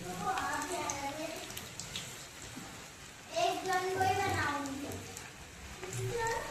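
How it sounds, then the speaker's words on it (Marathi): Steady monsoon rain falls as a soft, constant hiss while someone talks over it in a home kitchen where hot fritters are being fried. "मस्त पाऊस पडत आहे."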